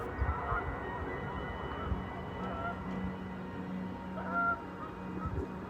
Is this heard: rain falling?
no